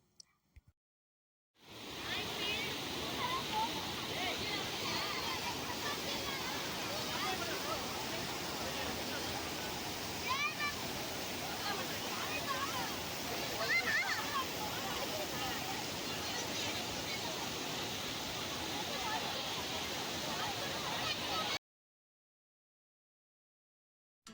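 Steady, strong rush of water from the Kalingarayan waterfalls near Erode, a continuous broadband roar holding level for about twenty seconds, close and loud with no clear talk over it.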